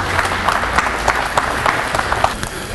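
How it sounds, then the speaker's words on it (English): Audience applause at a junior fishing event kick-off, steady crowd clapping throughout, moderately loud and slightly distant, with no talking over it. "please give a round of applause to Mr."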